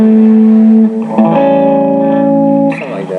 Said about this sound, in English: I just like the custom comp with the blues driver for a more bluesy